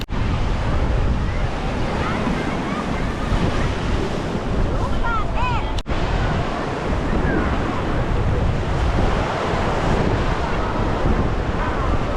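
Sea waves break continuously on the beach at Cha-am, a steady, loud surf roar mixed with wind buffeting the microphone throughout.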